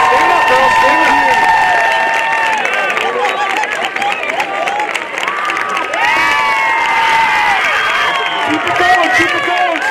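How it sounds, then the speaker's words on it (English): Loud, sustained clapping from a large crowd at a high school awards ceremony, mixed with cheers, whoops and excited shouting that carry on without a break. "please give a round of applause for girls soccer"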